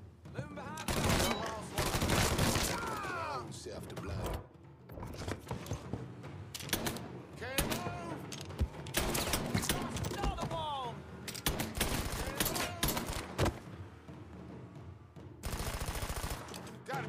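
Gunfire in the Mafia 3 video game rings out in sharp repeated bursts and single shots across the stretch, loud and close, with brief pauses between volleys and talk over it.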